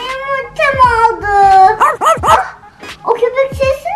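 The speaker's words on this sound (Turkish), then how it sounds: "O köpek sesi nereden geldi?" A dog barks and yips several times in quick succession, close and loud, during children's pretend play with surprise chocolate eggs.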